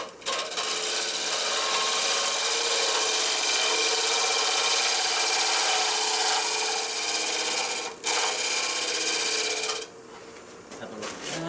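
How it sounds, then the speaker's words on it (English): A shear scraper smooths a spinning maple burl bowl on a wood lathe, making a continuous close-up rubbing, rasping hiss with the lathe running. The sound dips briefly midway and softens near the end. "Shear scraper just blends that in nicely."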